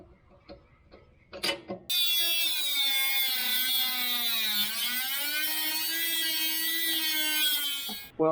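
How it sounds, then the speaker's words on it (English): A few light knocks and clatters, then a power drill spins up and bores a hole for a trailer hitch on a UTV lawnmower, whining steadily and close with a slight dip in pitch midway before stopping. "we'll get to cutting this and drilling this one up"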